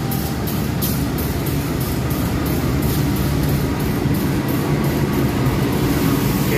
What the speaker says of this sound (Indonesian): Kita lihat lokomotif.